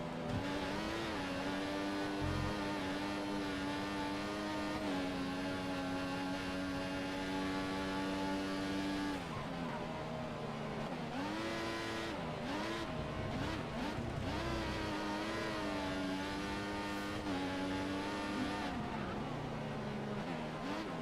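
A Formula One race car engine in the F1 2014 racing video game gives a continuous, loud, high-pitched whine that steps up and drops with gear changes and braking, with no talk over it.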